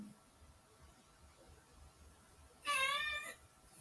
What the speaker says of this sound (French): C'est mon chat qui est en train de faire une réaction bizarre.